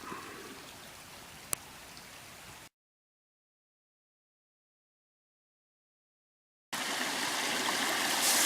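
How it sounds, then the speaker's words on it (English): A creek on a wooded hiking trail flows with a steady rushing wash. The water is heard for a few seconds, then cuts out to silence, and returns louder and closer. "Crossing this creek right here."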